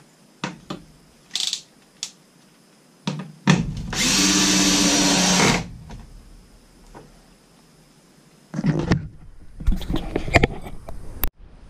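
A power drill drives screws into a gas can rack: one loud sustained whir of a couple of seconds, surrounded by brief clicks, knocks and short trigger bursts, up close.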